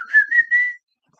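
A person whistles a tune, a short bright run of three or four notes lasting under a second, close and clear, then silence.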